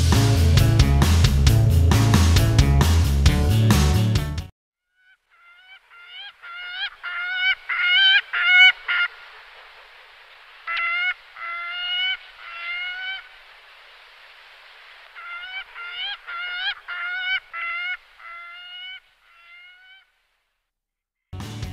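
A gyrfalcon (Falco rusticolus) gives repeated harsh, rhythmic call series in bursts of sharp, clear notes, heard alone against silence after a brief loud passage of other sound.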